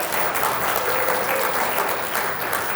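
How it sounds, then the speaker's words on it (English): An audience at a Segra 2022 event applauds a volunteer called up to the front, giving a continuous, full round of clapping with no speech over it. "Kate, massive round of applause."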